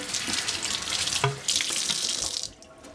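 Hands get a quick rinse under a running kitchen faucet, a steady close splashing rush of water that lasts a few seconds before cutting off.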